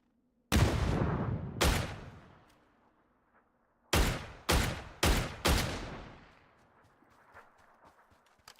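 Six loud shots in PUBG on the Erangel map, each with a booming echo that trails away. Two shots spaced apart come first, then after a pause a quick cluster of four, ending in a faint reverberating tail.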